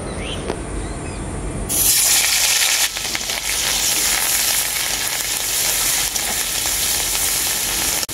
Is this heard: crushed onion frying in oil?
yes